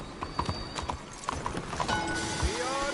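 Horse hooves clip-clop at a gallop in the video game Red Dead Redemption 2, a quick rhythmic beat of hoofbeats with tack jingle and a short whinny, heard close and mixed with game ambience and a voice.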